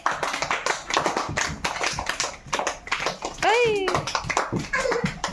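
Hand claps from children in a party game indoors, sharp and repeated, mixed with constant excited voices and a rising squeal partway through.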